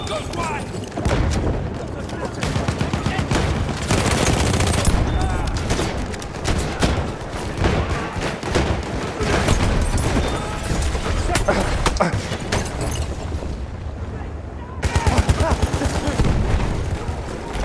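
Continuous battlefield gunfire in Battlefield 1 during an Amiens Operations defense, with machine-gun bursts and booming blasts, loud and dense throughout, with occasional shouted voices under the din.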